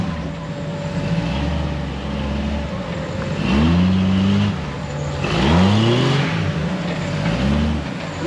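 A car driven by a first-time driver at an RBD event at Hawk Pride revs in uneven bursts, engine pitch rising and falling twice over a rumbling idle, fairly close and loud.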